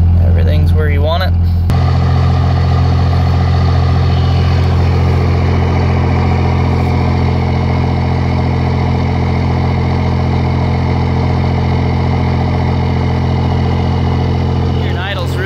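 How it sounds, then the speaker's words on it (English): A truck engine idles steadily and smoothly, its low rumble droning without a break and fairly close, with a person talking over it. "Here it idles really smooth."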